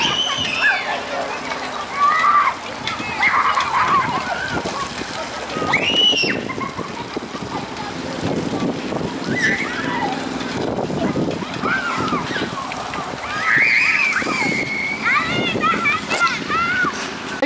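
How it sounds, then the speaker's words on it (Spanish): A child splashes about in outdoor water, with irregular sloshing and splatter bursts throughout while children and adults talk and call out over it. "Decidió meterse al agua."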